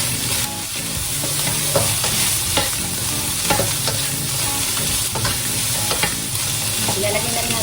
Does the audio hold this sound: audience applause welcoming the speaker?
no